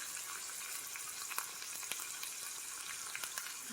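Marinara sauce frying in a pan, a continuous soft sizzle broken by scattered small pops and spits, close and fairly quiet, with no voices.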